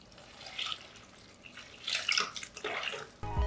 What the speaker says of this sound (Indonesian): Kemudian 600 ml air suhu ruang atau bisa juga menggunakan air es guys.